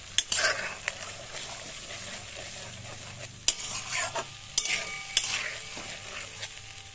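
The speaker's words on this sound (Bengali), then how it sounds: "পুরো মশলাটাকে আমি 3 থেকে 4 মিনিট ভালো করে কষিয়ে নেব।" Masala spice paste for a vegetarian doi potol dish sautéed in a pan, with a soft continuous sizzle, scraping stirs and occasional sharp clinks of a spoon against the metal.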